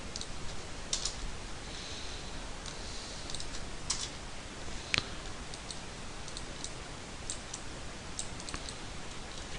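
Computer keyboard and mouse clicks while working in 3D rigging software, a steady scatter of light, close ticks and taps with a few sharper clicks over a soft background hiss.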